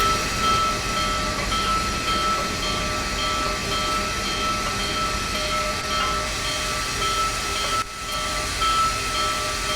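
Big Boy steam locomotive in a train simulator game runs with a steady, loud mechanical rumble and hiss, faint tonal hums throughout and a brief dip near the end.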